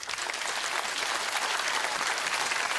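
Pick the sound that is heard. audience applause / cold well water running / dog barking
audience applause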